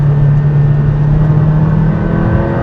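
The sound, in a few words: Aston Martin Valhalla engine revving at high speed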